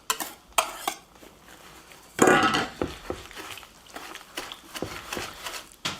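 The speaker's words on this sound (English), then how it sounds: "we're going to mix it all up" Blueberry cheesecake batter mixed in a bowl, with intermittent clinks and scrapes of a utensil against the bowl and a louder burst of stirring midway.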